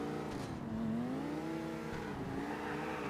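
Car engine revving hard in GTA IV, a steady loud drone with rising and falling pitch sweeps as the throttle is held, continuous throughout with no talk.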